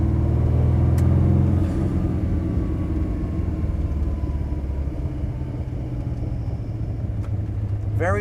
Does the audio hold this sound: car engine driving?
yes